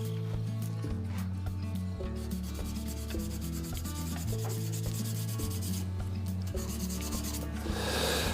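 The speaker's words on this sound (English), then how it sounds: "Sorry about that noisy mandrel, live centre on the mandrel" A worn, noisy live centre on a pen mandrel whirs and rattles as a lathe turns African zebrano wood, a loud, steady mechanical drone with rhythmic pulsing and gritty rubbing on top.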